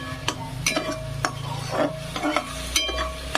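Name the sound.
onion frying and being stirred in a pan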